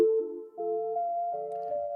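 A doubled Desert Sunrise synth patch run through two Phrasebox instances, with a bass patch underneath, plays short stepping chord tones that change every half second, clear and steady with a low bass note entering late.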